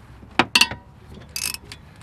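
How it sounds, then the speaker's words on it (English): A ratchet wrench loosens the bolts on a car's front brake assembly, a few quick metallic clicks and a short burst of rapid ratcheting, close and isolated. "These bolts are like tight for the first quarter turn, and then they're good to come out"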